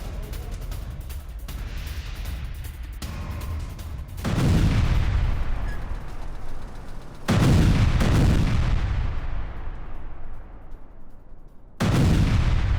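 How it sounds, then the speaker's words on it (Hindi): Artillery fire in an attack on a Russian tank booms in heavy, rolling blasts, three big detonations spaced several seconds apart, each decaying into a long rumbling tail over continuous rumble, with no voices. "आर्टिलरी अटैक में रूसी टैंक तबाह।"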